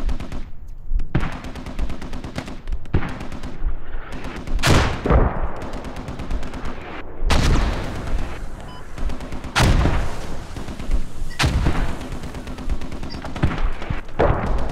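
Mortar rounds and gunfire in a tactical multiplayer squad shooter, with several loud booming impacts spaced a few seconds apart over a steady bed of distant gunfire and battle noise.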